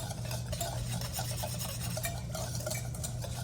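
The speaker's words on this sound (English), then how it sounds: "we're gonna use our whisk and we're gonna just mix this marinade all together" A whisk mixes a pork tenderloin marinade in a bowl, giving a steady, close scraping and swishing stir with rhythmic clicks against the bowl that run continuously and fairly quietly.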